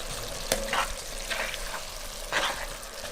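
Vegetables for a chicken and white bean soup cooking in a pot with dried thyme, a soft, steady sizzle under a few brief stirring scrapes and one sharp clink.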